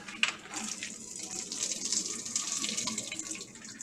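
Hot water used for cooking pasta and squash pours steadily from a pot into a kitchen sink, a constant close splashing rush with no talk.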